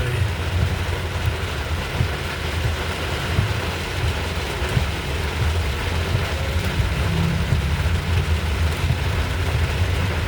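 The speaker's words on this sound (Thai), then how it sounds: "ฝนตกอีกแล้ววันนี้" Heavy rain pours down during a storm in Thailand. A dense, continuous hiss with a low rumble beneath it holds at a steady level throughout, and no voices are heard.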